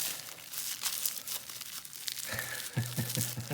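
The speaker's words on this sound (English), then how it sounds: "Boy, do I love opening packages." Paper and plastic packaging of a mailed package crinkles and tears as it is opened by hand, close-up rustling and ripping in short irregular bursts, ending with a few sharper tugs.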